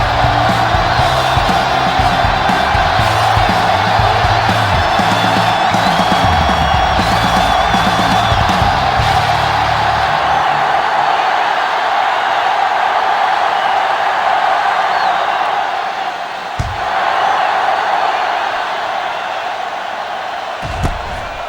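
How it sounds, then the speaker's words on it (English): Stadium crowd in Madden NFL 07 for a Colts versus 49ers game, a loud continuous roar of cheering and whoops that lasts throughout and eases slightly in the second half, with occasional thumps. "The crowd is ready, the teams are ready,"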